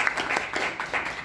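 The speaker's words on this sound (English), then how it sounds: "please give a round of applause for Fab Bouchereau" Audience members at a breakout session clap for a speaker, a brief burst of fairly close, loosely rhythmic clapping with distinct pulsing hand claps.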